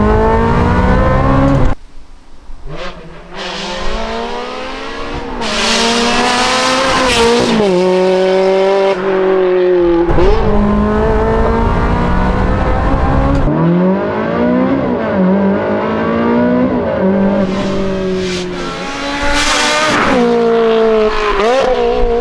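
A Ferrari 360 engine revs hard and climbs through the gears while driving, loud rising wails broken by quick shift dips, with a short quiet lull early on, close and sustained, no speech.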